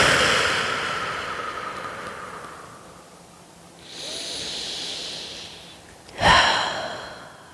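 Slow breathing during a yoga stretch, soft airy exhales with a quieter hiss mid-clip and a sharper breath near the end, close and alone.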